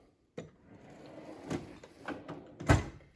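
A metal toolbox drawer holding punches and chisels is pulled open, several short sliding clunks and rattles with a sharp metallic knock near the end, close and fairly quiet.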